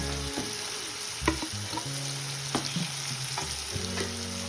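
Ginger garlic paste fries in a pan with a steady sizzle, occasional sharp stirring clicks, and background music underneath.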